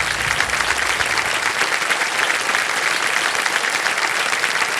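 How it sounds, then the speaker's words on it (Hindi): The studio audience on the quiz show Kaun Banega Crorepati bursts into loud, sustained applause, a thick wash of clapping that stays even throughout. "ताली बज जाए इनके लिए।"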